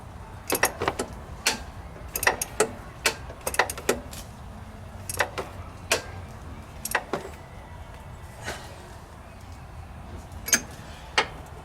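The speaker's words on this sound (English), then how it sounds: "Swapped over to a different socket wrench." Sharp metallic ratcheting clicks from a socket wrench come in irregular bursts, some quick runs and some single ticks, over a quiet background with faint rustling, during a Pontiac Vibe alternator replacement.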